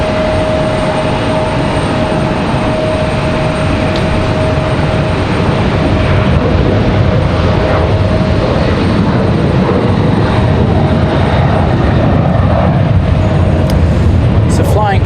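Jet engines of a United airliner departing Raleigh-Durham International, a loud, constant, dense roar with a faint steady whine riding on top for much of it, and no talking.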